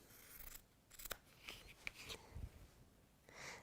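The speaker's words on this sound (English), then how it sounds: "Snip out those bits." Fabric bits being snipped off with scissors in a few close, quiet cuts spread over a few seconds, with faint breathing between them.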